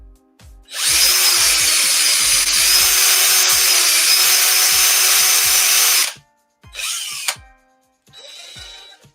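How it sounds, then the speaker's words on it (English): A handheld power drill runs on a painted Christmas ornament: one loud, sustained whine of about five seconds, then two short bursts after brief pauses. "we're gonna use power tools, guys"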